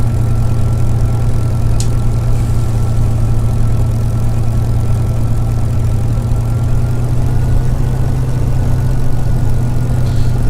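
A Spitfire Mk IXc engine runs steadily as the aircraft sets off to taxi, a loud continuous droning hum with no voices over it.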